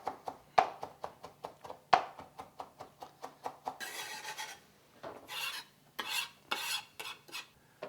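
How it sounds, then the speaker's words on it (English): Knife chopping fresh cilantro on a cutting board for salsa: a steady series of crisp, close taps, then looser scraping and rasping strokes as the herbs are gathered and rubbed across the board. "All I'm doing is chopping up the cilantro right now"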